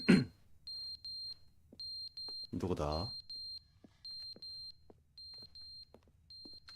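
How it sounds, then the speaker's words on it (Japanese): An alarm rings in the video game The Stanley Parable, a shrill electronic tone pulsing in regular bursts of rapid beeps, with a voice speaking briefly over it. "アラームがうるせえ。"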